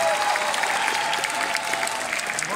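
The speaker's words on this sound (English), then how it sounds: "Big round of applause." An audience at an anime convention closing ceremony applauds, a steady wash of clapping from a large crowd held evenly for a couple of seconds.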